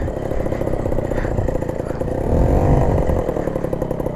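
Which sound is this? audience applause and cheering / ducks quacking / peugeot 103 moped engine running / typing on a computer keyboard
peugeot 103 moped engine running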